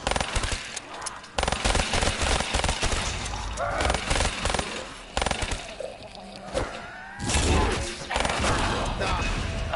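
Rapid gunfire from a shooting video game, bursts of automatic fire and impacts packed densely across the whole stretch, loud and close, with brief gaps and occasional crashes.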